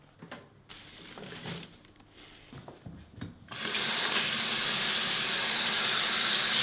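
Garlic chives, also called Asian chives or buchu, rinsed by hand under a running kitchen tap, the steady broadband gush of water starting abruptly partway through after quieter handling noises.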